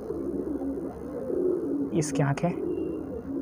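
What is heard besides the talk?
golden male pigeon cooing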